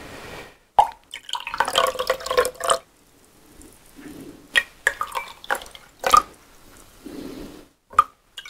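Drops of ebonizing liquid fall with a few sharp, separate plops and splashes, spaced unevenly over a quiet background, some near and crisp, others softer.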